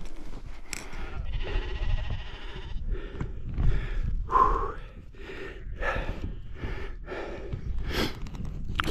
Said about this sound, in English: That sheep didn't sound well, did it?